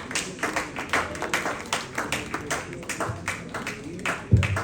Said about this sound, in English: I think the applause should keep coming.